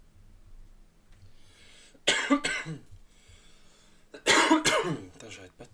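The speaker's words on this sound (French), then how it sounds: "j'arrête pas de tousser" Two bursts of harsh coughing, each a quick cluster of several coughs, close to the microphone with quiet room noise between.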